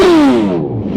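A motorcycle sweeps past during the Prvá míľa Liptova 2026 group ride, its engine tone dropping in pitch as it passes close by in one brief, loud pass.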